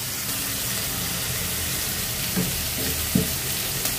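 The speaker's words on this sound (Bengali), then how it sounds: "এখন একটু আদা রসুনের পেস্ট দিয়ে দিলাম" Ginger-garlic paste with ground coriander and spices sizzles steadily in a hot pan for a home-style shrimp curry, a continuous close frying hiss broken by a few soft stirring scrapes.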